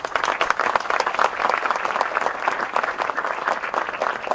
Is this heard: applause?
yes